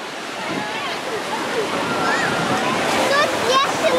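Rushing water pours steadily at a children's pool in an amusement park, a broad continuous splashing roar with voices of children and adults talking over it.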